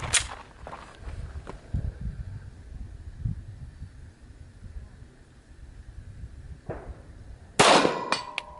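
Glock 40 Gen 4 MOS 10mm pistol fired at steel plates 100 yards away, sharp loud reports with faint metallic clangs following, one near the start and a louder burst near the end, over wind and shuffling.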